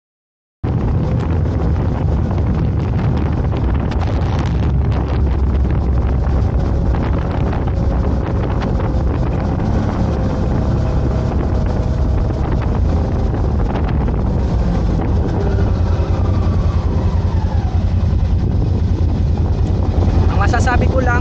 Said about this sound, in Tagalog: napakalakas ng kanyang engine performance dahil nga 1000cc ito